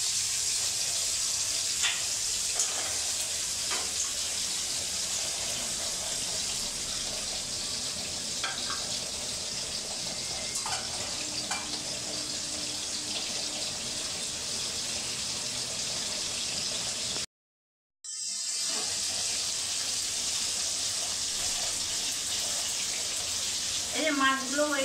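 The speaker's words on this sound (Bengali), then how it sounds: "এবার মাছগুলো দিয়ে দিচ্ছি। আমি সব মাছগুলো একসঙ্গে খুব হালকাভাবে ভেজে নেব।" Hilsa fish fries gently in a pan over lowered heat, a continuous close crackling sizzle with occasional clinks of handling, briefly cutting out before resuming.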